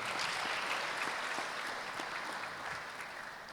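An audience at a graduation ceremony applauds in a dense, steady wash of clapping that fades slightly toward the end.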